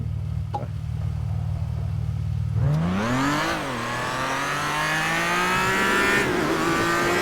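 A vehicle engine with an RPM-cutting fault idles with a low steady drone, then revs up sharply. The pitch climbs, dips slightly and holds at a higher, strained whine, loud and close with no talk.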